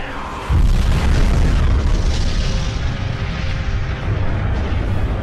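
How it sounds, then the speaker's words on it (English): A sudden loud boom, an explosion in a played video, bursts in after a brief quiet start and gives way to a dense, roaring rumble that lasts to the end. "Look at the explosion!"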